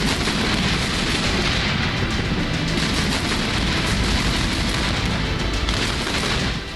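Dense, continuous bursts of gunfire and booming blasts from combat in the Russia-Ukraine war overlap in a harsh wall of noise, loud and unrelenting throughout.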